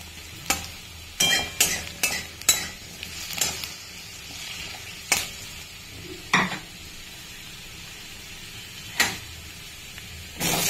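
Potatoes frying in a pan as they brown, stirred with a utensil: a series of sharp scrapes and knocks, clustered early and then spaced out, over a faint steady sizzle, with no talking.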